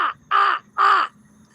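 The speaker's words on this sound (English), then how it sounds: "Oh, I hear a crow buddy up there." A crow caws twice from up overhead, two loud, harsh, drawn-out calls with a short gap between them, outdoors and with no voices.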